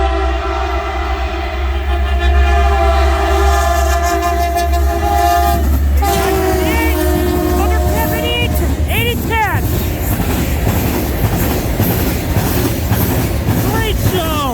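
Massive horn show from a CN freight train, EMD locomotive 8958 on S763 at Ladysmith: loud sustained chords blast repeatedly over the rumble and clatter of passing railcars, with overlapping horn bursts growing more broken later on.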